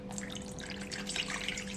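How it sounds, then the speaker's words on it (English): About 220 milliliters of water poured into a mixing bowl sitting on a kitchen scale for bread roll dough, a soft, steady, quiet trickle heard alone. "pour the water straight in"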